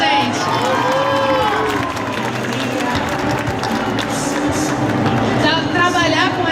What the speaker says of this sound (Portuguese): Palmas pro Kuroda, gente.